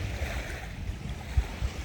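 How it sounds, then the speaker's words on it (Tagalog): Sea waves at a beach shore, a soft continuous wash of surf with gentle low swells and a couple of brief thumps, fairly faint and without talk. "Nakikinig sa alon."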